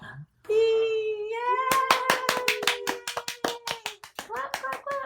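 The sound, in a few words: children and adults clapping at storytime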